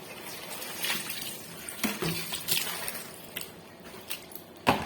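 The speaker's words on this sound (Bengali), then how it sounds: "এখন আমি সিমের বিচিগুলা ধুয়ে নেব।" Bean seeds being rinsed by hand in water, with soft splashes and squishy sloshing in short bursts and a few louder swishes, close up and fairly quiet, no voices.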